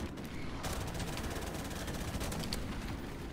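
Sustained automatic gunfire from Call of Duty 4: Modern Warfare, a dense continuous rattle of rapid shots with no talk, steady and moderately loud throughout.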